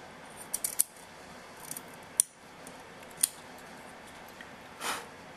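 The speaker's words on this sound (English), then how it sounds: "I like to use fairly small scissors for this because I can get in closer" Small scissors snip lace on a dollhouse bed: a few crisp, close metallic cuts in quick clusters, then isolated snips, against a quiet room with no talking.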